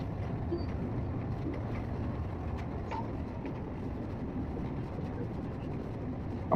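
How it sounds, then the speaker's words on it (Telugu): A train running along the track, heard from the cab during a ride in Pakistan: a steady low rumble and rattle continuing without a break. "చూడండి, నెక్స్ట్ గేట్ క్రాస్ అవుతుంది ట్రైన్."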